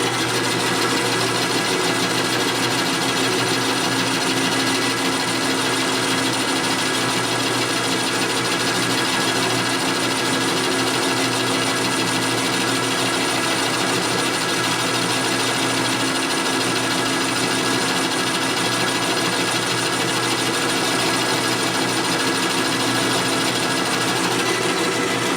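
Steady machine whine and grinding from a machining cut on a Harley shovelhead engine build for a big-bore CI stroker motor, a continuous loud drone that holds unchanged for the whole stretch with no talk over it.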